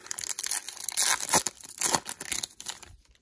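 Foil wrappers of 2024 Topps Series 1 blaster packs being ripped open, with loud, close crinkling and tearing in bursts that fade into quiet at the end.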